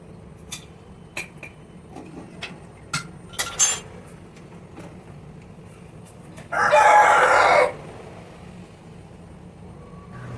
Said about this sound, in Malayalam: കോഴികളുടെ സൗണ്ട് കേട്ടോ കോഴികളൊക്കെ എണീച്ച് സൗണ്ട് ഉണ്ടാക്കാൻ തുടങ്ങി കേട്ടോ